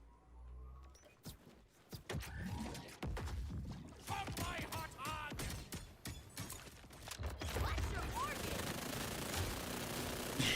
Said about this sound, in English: It sounds like a minigun.